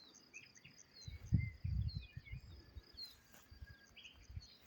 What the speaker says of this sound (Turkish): Kuşlar ötüyor.